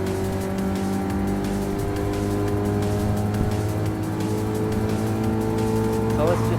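A Toyota S-FR concept roadster drives in Gran Turismo Sport, its engine holding a steady, loud drone with shifting pitch throughout.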